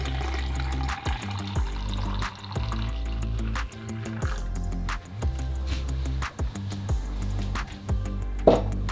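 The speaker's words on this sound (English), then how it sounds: "Now go ahead and pour in your favorite milk." Milk is poured into a container for dalgona coffee, a soft liquid glugging and trickling in pulsing bursts with a final small clink.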